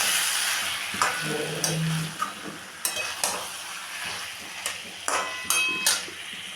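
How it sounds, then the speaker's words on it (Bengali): Chicken sizzles in a pan with slit green chillies while a spatula scrapes and stirs, sending out repeated clinking strokes over a continuous close frying hiss. "দিয়ে মাংসটাকে আমি খানিক কষিয়েও নিলাম।"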